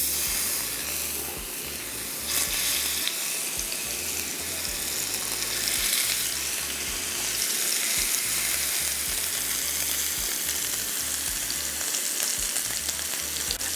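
Sea scallops sear in a very hot pan, producing a loud, steady, crackling sizzle with broadband hiss throughout and occasional low clunks from the pan, with no voices.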